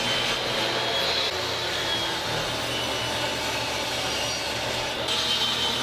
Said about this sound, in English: I'm going to cut all the pieces for the base down to a rough length.